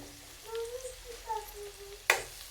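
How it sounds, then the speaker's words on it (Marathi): Tomatoes frying in a pan for a village-style veg biryani, a soft steady sizzle close by with a scrape of stirring near the end. "टोमॅटो परतून घ्यायचं चांगलं"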